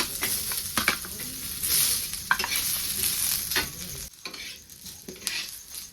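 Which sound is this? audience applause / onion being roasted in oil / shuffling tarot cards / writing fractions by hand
onion being roasted in oil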